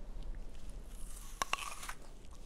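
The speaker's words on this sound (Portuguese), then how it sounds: "Tem gente que falou, ai que nojo, ela mastigando." A single close, crisp bite into an apple gives a sharp crunch, followed by a brief moist chewing crackle over a faint background hiss.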